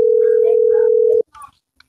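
A steady phone tone sounds alone and loud for about a second before cutting off, followed by a short burst of muffled talk.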